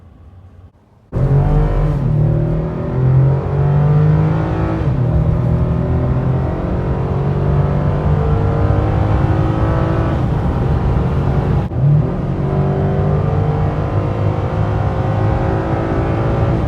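A 2018 Chevy ZR2 pickup truck drives in off-road mode, its engine a steady, loud, close drone with rising and falling harmonic pitch, pulling continuously through the shifts after a brief quiet start.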